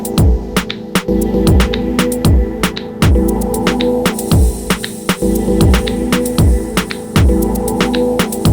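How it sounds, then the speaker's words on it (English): A Roland TR-8S drum machine pattern of punchy kicks and crisp hits repeating in a steady loop, each hit trailing off in a bright, shimmering plate reverb. "The next reverb is a plate reverb, and this is really good for any kind of synth sounds"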